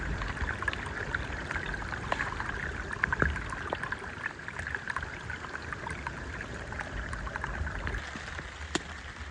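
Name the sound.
creek water running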